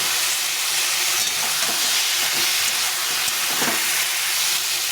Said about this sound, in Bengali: এটা আমি এই সবজির মধ্যে দিয়ে দেবো দিয়ে এটাকে ভালো করে কষিয়ে নেব